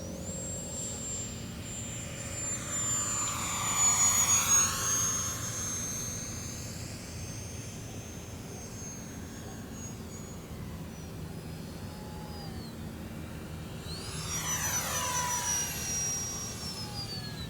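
An E-flite UMX Viper 30mm electric ducted-fan model jet passes overhead twice, its high whine sweeping up and down in pitch as it approaches and recedes, with no talking.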